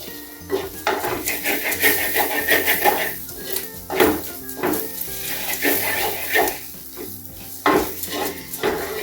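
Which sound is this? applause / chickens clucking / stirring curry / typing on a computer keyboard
stirring curry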